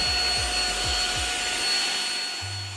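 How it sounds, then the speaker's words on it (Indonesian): A Deerma CM 818 anti-dust-mite vacuum cleaner runs with a steady loud whirring hiss and a thin high whine, accompanied by a few low rhythmic thumps early on and a low hum near the end. "Untuk menghidupkan vacuum cleaner ini kita tinggal menekan tombol power pada bagian tengahnya"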